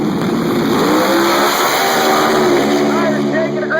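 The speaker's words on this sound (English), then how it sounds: "look at Houston pulling gears" Drag race cars, including a 4-cylinder Ecotec car and a Falcon, roar loudly down the track as engines rev and shift through gears, with an announcer talking continuously over the noise.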